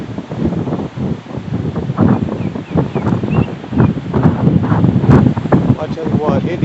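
Gusty wind buffets the microphone in rough, uneven bursts on an old Arkansas River bridge, with a person talking underneath the rushing noise.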